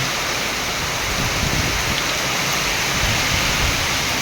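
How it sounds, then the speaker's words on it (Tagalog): Heavy rain pours steadily and loudly, a dense unbroken roar with gusty wind mixed in, close and continuous throughout. "malakas ang hangin, malakas ang ulan"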